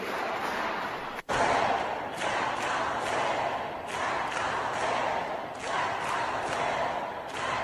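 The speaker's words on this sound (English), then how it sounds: "it was a pretty significant protest inside the Capitol" A protest crowd packed inside the Capitol, a dense, steady roar of many voices with muffled shouts and thumps, near and loud, cut briefly by an abrupt break early on.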